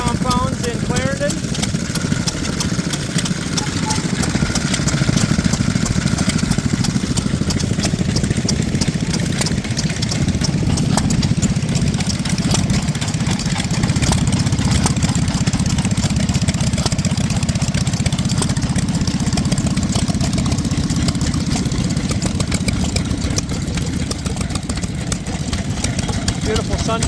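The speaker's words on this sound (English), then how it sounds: "Beautiful sundial running well." Restored Sundial stationary engine running at the Clarendon Classic engine show, a steady mid-pitched idle chugging continuously, with a busy outdoor crowd and voices in the background.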